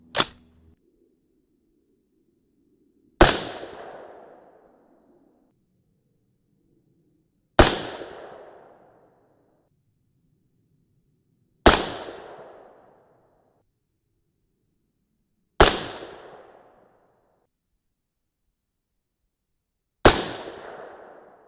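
An AR-10 rifle fires 6.5 Creedmoor 130-grain Sierra GameChanger rounds at an outdoor range: six sharp, loud single shots spaced several seconds apart, each with a brief decaying echo and quiet between.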